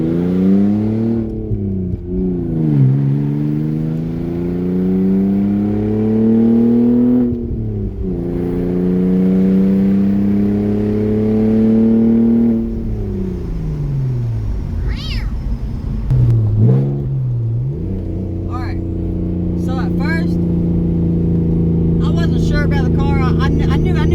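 A cheap Audi A4 with its exhaust cut off revs repeatedly, a loud raw engine rising and falling in long swells that sound almost like a yowling cat, close by, with brief sharp noises later on and no clear talk.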